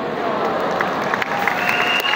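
An audience in a church clapping, a steady spread of many hands with some scattered cheers, moderately loud throughout.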